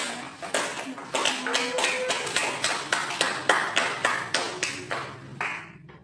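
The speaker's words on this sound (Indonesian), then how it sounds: "beri tepuk tangan kepada teman yang" Classroom students clap for a classmate in a quick, evenly spaced rhythm of crisp, close claps that rises and then fades, with a brief voice near the start.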